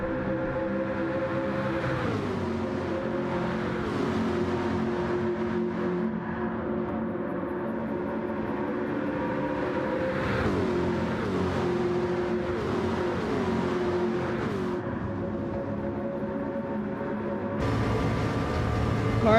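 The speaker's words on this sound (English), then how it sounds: "Cars are approaching Indy here." Race car engines in the GTC World Cup racing video game whine at steady high pitch, with gear shifts and pitch dips as cars approach a fast sweeper and brake. Engines stay loud and continuous throughout.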